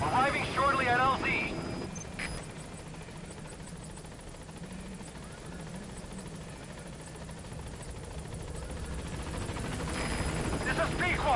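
Helicopter arriving at a landing zone in the video game Metal Gear Solid V, a steady rotor whir and engine drone that holds throughout and swells toward the end, with voices speaking over the start.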